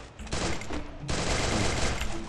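Rapid automatic gunfire in the Free Fire battle royale game, a loud dense burst that pauses briefly and then resumes as continuous shooting, with no talk.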